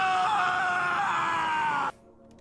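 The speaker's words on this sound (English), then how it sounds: "But I just love Nico's fucking scream now" A video-game character lets out a long, loud scream while falling off a ladder, a sustained strained cry lasting nearly two seconds before cutting off abruptly into near silence.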